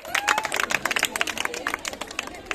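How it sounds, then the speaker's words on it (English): A school audience at a Menstrual Hygiene Day program claps in an uneven, scattered patter with crowd murmur mixed in, moderately close and not very loud. "Please give a round of applause."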